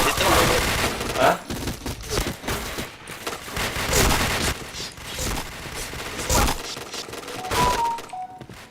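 Gunfire in the online shooter game Point Blank: repeated bursts of rapid automatic shots with sharp single cracks and mechanical clacks, loud and close, while a voice talks intermittently over the action.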